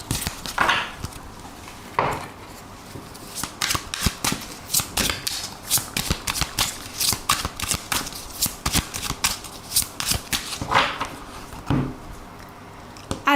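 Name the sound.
shuffling tarot cards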